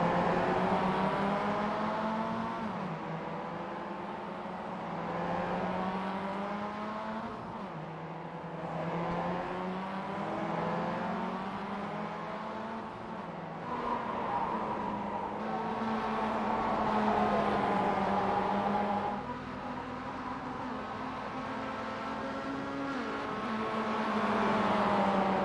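Mazda MX-5 race cars lap a circuit during a WCS MX5 Cup race, their engines droning steadily with rising and falling pitch as they accelerate and shift, a continuous close mechanical note running the whole time with no talk.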